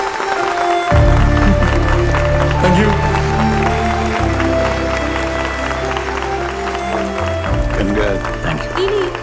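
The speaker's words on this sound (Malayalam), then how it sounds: "അദ്ദേഹത്തിന്റെ മികച്ച അഭിനയത്തിന് നമുക്ക് ഒന്നിച്ചു കൊടുക്കാം ഒരു വലിയ കൈയ്യടി" A crowd applauds at a Malayalam film promotion event for Mohankumar Fans, a dense, loud and continuous wash of clapping over a steady low hum, with talk mixed in.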